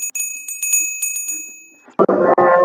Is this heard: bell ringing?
yes